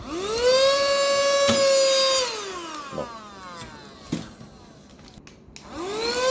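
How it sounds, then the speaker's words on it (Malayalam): A vacuum sealer motor whines at a steady pitch, then slides downward as it pulls air from the bag, with a few short clicks and knocks before the motor spins up again at the end. "ഇങ്ങനെ വെച്ച് നമ്മൾ കുറച്ചേ പ്രസ് ചെയ്യാവുള്ളൂ നമ്മുടെ സീലർ. അതിനുശേഷം മെഷീൻ ഓൺ ആക്കുക."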